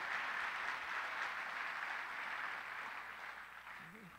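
A congregation at a Sunday church meeting claps together in worship, a soft and steady wash of many hands that stays even and then slowly fades toward the end.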